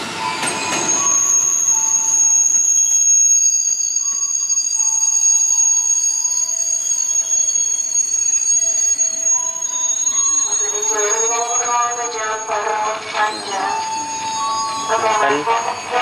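A KRL commuter train pulls into Tigaraksa station on an afternoon, wheels squealing and cars rumbling loud and near while a crossing bell rings steadily throughout, with a station announcement voice over it.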